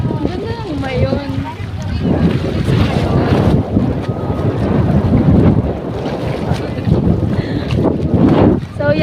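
Strong outdoor wind in Sto. Domingo, Albay, buffeting the microphone with a constant rumbling roar, while people talk faintly beneath it.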